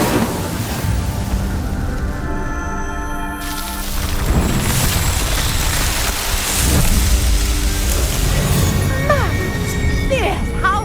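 Incendio fire spell cast in the game Hogwarts Legacy: a dense, steady roar of crackling flame that swells partway through, with a couple of low thudding bursts and a voice speaking over it.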